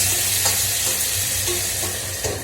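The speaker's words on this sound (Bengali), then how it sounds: "এই যে ভাজা ভাজা বেশ হচ্ছে, আর তারপরে এই যে মশলাটা বেশ হয়ে গেছে।" Spice mixture frying in a pan while being stirred: a loud, dense, continuous sizzle close by, with soft repeated scrapes from the stirring.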